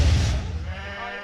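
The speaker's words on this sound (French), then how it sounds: "On voit ici des bébés moutons avec des gros moutons" Sheep and lambs at an agricultural show, one loud, close bleat that wavers and trails off, heard on its own.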